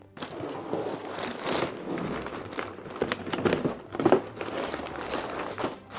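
Paper bags from a LEGO Harry Potter Burrow Collectors' Edition set crinkle and rustle in repeated bursts as they are handled and torn open, close and fairly loud, with no talking.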